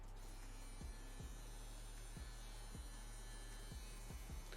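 A Linetion Sworder wireless tattoo machine runs with a faint, steady electric hum and buzz. Soft periodic clicks sound at irregular intervals. It is quiet and close, with no speech.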